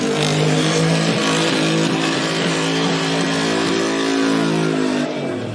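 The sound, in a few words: wheel-hopping car accelerating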